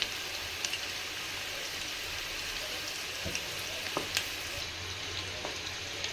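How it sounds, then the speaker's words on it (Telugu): Chicken 65 pieces deep fry in oil over a medium flame, making a continuous bubbling sizzle with scattered crisp pops and crackles. A few clicks and knocks sound close by. "కొంచెం మీడియం ఫ్లేమ్లో వేయించుకోవాలి"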